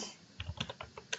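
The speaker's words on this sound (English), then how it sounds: "I'm going to type in my EndNote" Quick keystrokes on a computer keyboard as a web address is entered, about eight close, crisp clicks in an uneven burst lasting just over a second, with no talking.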